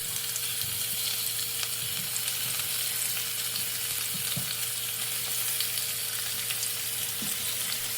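Steady sizzling of chicken pieces frying in a hot grill pan for fettuccine Alfredo, a continuous crackling hiss with occasional louder pops, no voices.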